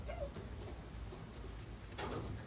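Female pigeons in a coop cooing softly in a few low, rolling calls over steady background noise, with no talking.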